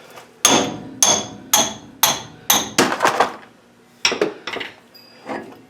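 A hammer pounds on a 1955 Buick king pin with sharp metallic strikes, about a dozen blows at a steady rhythm that briefly quickens, loud and close, with no voices.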